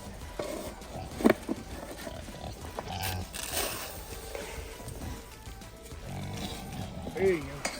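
A baby pig oinks and squeals on a snowy farm during chores, with brief close grunts and a sharp squeal near the end, while a person talks over the steady background.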